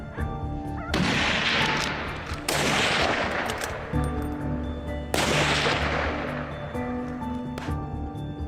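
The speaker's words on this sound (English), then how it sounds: "The sound of gunfire echoed through the forest." Heavy gunshots boom in several bursts in a forest during a hunt, each blast ringing out with a long rolling echo that fades before the next volley.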